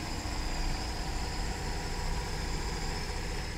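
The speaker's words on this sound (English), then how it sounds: "this has the 230 horsepower supercharged Rotax engine" A 2023 Sea-Doo Switch 21 Cruise's 230-horsepower supercharged Rotax engine idles steadily with a low, even rumble and a faint high whine, close and continuous.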